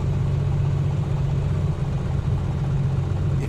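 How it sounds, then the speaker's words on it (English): Real aircraft piston engine idling low with a weak cylinder, a steady close low-pitched chugging rumble with a slightly uneven pulse, loud and continuous with no voices. "See and hear that cylinder misfiring."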